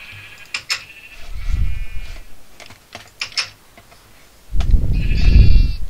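Sheep in the Minecraft video game bleat in two bursts, loud and close, set between sharp keyboard clicks and clatter from the player's computer.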